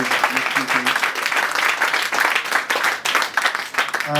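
An audience claps steadily at a business networking event, dense sustained applause running throughout with some voices mixed in.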